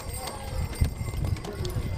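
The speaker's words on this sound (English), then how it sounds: "hearing the bells on the horses as they go with their wagon rides" Horses pulling wagons clip-clop steadily along in snow, hooves beating in an even rhythm with faint jingling of bells, while people talk nearby.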